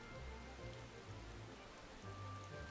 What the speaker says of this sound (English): Yes, I know it's raining in game